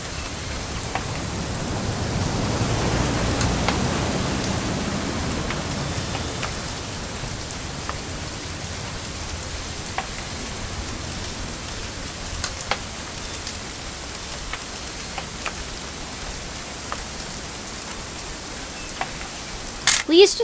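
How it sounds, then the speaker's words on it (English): Steady rain patters continuously in the video game What Remains of Edith Finch, a soft broadband hiss with scattered drips and taps, swelling slightly early on before settling into an even downpour. "It's gonna rain the whole weekend, isn't it?"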